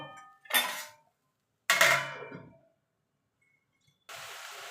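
Spice paste of coriander, dried chilli and turmeric sizzling and being stirred in a pan for a potato-aubergine pabda fish curry, in two loud scraping bursts with a gap, then a steady hiss at the end.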